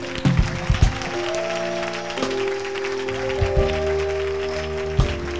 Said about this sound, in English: Somebody clapping.